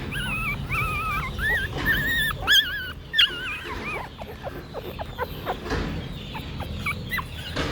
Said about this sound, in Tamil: இந்த குட்டியே தான் சவுண்டு விட்டுக்கிட்டு இருக்கு.